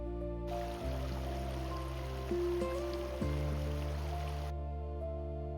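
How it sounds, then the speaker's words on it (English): A mountain stream near La Cumbrecita flows with a continuous, even rush of water that hisses softly at moderate loudness beneath sustained background music, without any talking. "And then, all of a sudden, we heard water."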